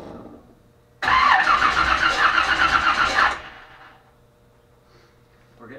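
A Chevelle engine cranking without starting, a loud, steady starter whir and churning for about two seconds that then cuts off, close and alone, with a faint noise afterward.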